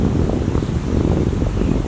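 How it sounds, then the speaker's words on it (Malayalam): Strong wind blows outdoors on a hot, humid day, a loud, continuous rushing roar buffeting the microphone without pause. "ഭയങ്കര കാറ്റായി ഒരു കാറ്റുണ്ട്."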